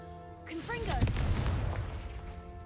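A Confringo fire spell bursting in the Hogwarts Legacy video game, a sudden booming blast with a crackling, fizzing tail, heard right after a voice calls out the spell.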